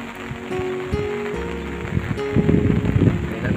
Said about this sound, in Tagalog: Ito ang baha.